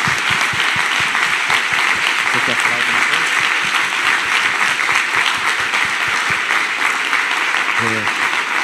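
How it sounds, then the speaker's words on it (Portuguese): A Portuguese-speaking church congregation applauds at a founding assembly of the Igreja O Brasil para Cristo. Dense, steady, loud applause fills the whole stretch while a voice speaks briefly over it. "Vamos aplaudir ao Senhor mais uma vez."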